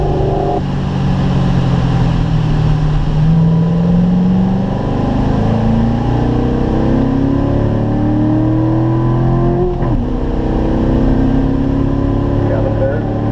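A Corvette accelerates at full throttle on a race track at a driving school, engine note climbing steadily in pitch for several seconds and dropping briefly near the end, loud and continuous with an instructor talking over it.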